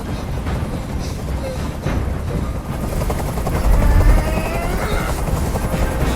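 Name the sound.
helicopter hovering, from a video game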